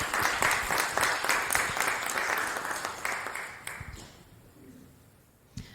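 Audience applause at a New City Kids event is loud and steady at first, then fades away over the last couple of seconds, leaving a quiet room with one sharp knock at the end.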